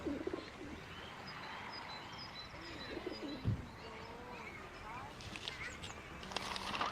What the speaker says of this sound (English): the other pond birds, with all the quacking and the splashing that goes on all the time as they land and take off and fight and squabble over bits of food